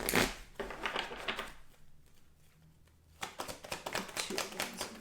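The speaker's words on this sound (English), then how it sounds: "Let me just shuffle these." Tarot cards are shuffled by hand in close, crisp bursts of riffling and flapping, a quiet pause in the middle, then rapid rhythmic card slaps resuming.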